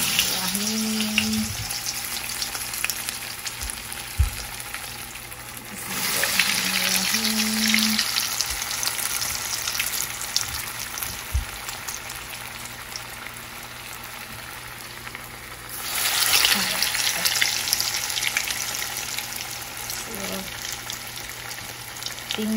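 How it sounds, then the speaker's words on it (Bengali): Egg chops frying in hot oil in a home kitchen, producing a steady loud sizzle throughout that swells twice as pieces are added, with occasional utensil knocks. "সো একে একে ভেজে নিচ্ছি এই ডিম চপগুলো।"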